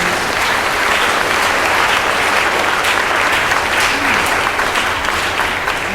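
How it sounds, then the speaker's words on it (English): Loud, continuous applause from an audience at a high school spring orchestra concert, a dense wash of clapping that stays even for the whole six seconds. "Please give them all a round of applause."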